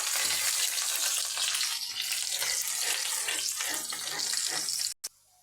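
Chopped garlic cloves and a small piece of ginger frying in a hot pan, a steady loud hiss and crackle that runs unbroken for about five seconds, then cuts off abruptly.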